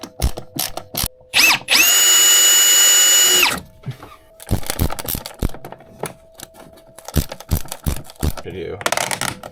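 A power drill drives old screws into a fan mount on a boat, one loud sustained whir lasting about a second and a half, set among clicks, handling knocks and brief speech.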